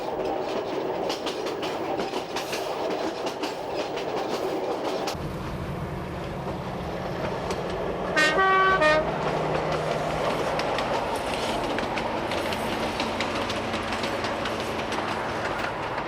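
Renault ABH and X 2000 railcars running on a Corsican line, a steady rolling rumble of a passing diesel railcar with a brief horn-like tonal burst midway, loud and continuous throughout with no voices.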